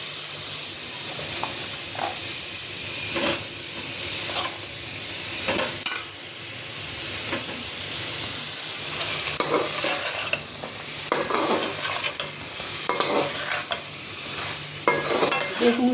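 Eggplant added to a hot pan with boiled potatoes and spices for an ilish fish curry, loud steady frying hiss with repeated spatula scrapes and stirring knocks throughout, close and without speech.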